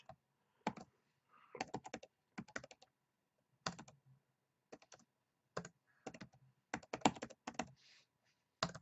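Keys clacking on a computer keyboard in short bursts of quick strokes, separated by brief pauses, close and fairly quiet with no voices.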